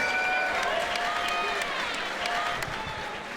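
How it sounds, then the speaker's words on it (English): Crowd applause and cheering at an MMA event in Burbank, a dense steady wash of clapping that fills the whole stretch, with bright sharp claps and whistles on top and an announcer's voice faintly under it. "Burbank, how about a big round of applause for these two rising"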